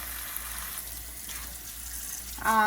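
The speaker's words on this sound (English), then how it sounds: "First, we need to wash the vegetables." Bok choy and oyster mushrooms being washed, quiet background hiss until a tap suddenly gushes on near the end, water running loud and close.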